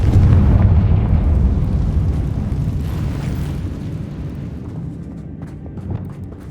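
A Confringo spell blast in Hogwarts Legacy booms loudly at the start, then a dense roar of fiery debris slowly fades and crackles over several seconds, with no voices.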